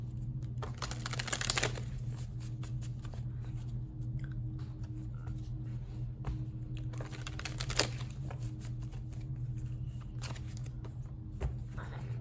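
Tarot cards are shuffled in quiet, uneven bursts of soft riffling and crisp card snaps against a low steady hum, with no one talking.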